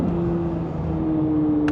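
A naturally aspirated 5.5-liter flat-plane-crank V8 in a Chevrolet Corvette Z06 holds a steady, loud hum with a sustained tone throughout, slightly shifting pitch, with no talk over it.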